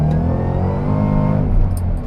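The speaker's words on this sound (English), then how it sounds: "Struggling for traction in second gear. Just listen to that whine." A 2013 Shelby GT500 with an aftermarket intake tube pulls hard in second gear while fighting for traction. A loud, close engine roar rises steadily with a high supercharger whine layered over it, and no one speaks.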